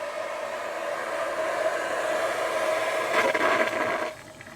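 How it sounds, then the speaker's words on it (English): Hot water pours steadily through a funnel into an A/C condensate drain line, a continuous rushing hiss that swells slightly near the end, then cuts off abruptly, with no talking. "I'm going to flush a little bit of water down there"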